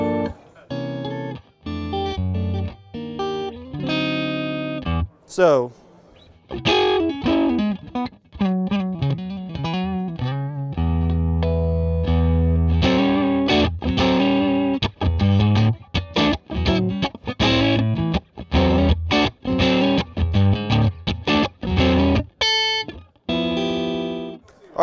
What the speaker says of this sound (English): That's a very nice, pristine, kind of clean sound.